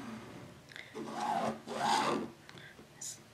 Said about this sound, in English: just draw a line down there